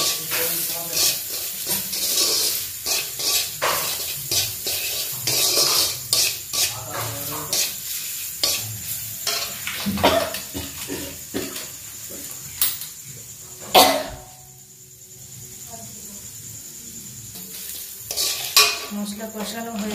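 Spices with chilli powder and salt are stir-fried in a pan with a soft sizzle under repeated scraping and clattering strokes of a spatula or spoon. The sizzle briefly drops quieter midway before the rhythmic stirring resumes.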